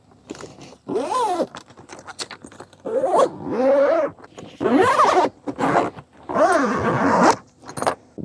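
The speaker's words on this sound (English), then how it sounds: "Zip it up." A zipper is drawn around a padded EVOC Road Bike Bag Pro travel case holding a gravel bike, heard in several long close rasping pulls separated by short pauses.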